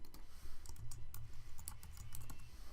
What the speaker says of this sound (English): So for name, they can type it here.